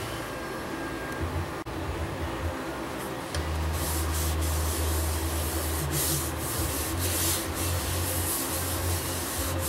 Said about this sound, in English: it's time to start putting sanding sealer on it